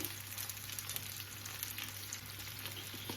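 Steady sizzling of sugared onions caramelizing in a frying pan, a constant crackle and hiss with no talking.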